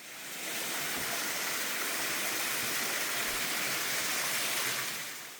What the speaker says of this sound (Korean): 이 작은 폭포는 주렴폭포라고 하는데요.